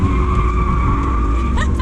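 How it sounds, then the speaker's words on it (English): An all-wheel-drive car drifting, a loud close engine drone with tires scrubbing and skidding, plus a brief squeal near the end. "You drifting this thing?"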